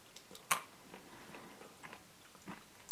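Crunching bites into a Magnum Utopia Double Cherry ice cream bar with a dark chocolate shell, a sharp crack near the start and another at the end, with faint chewing in between, close and quiet.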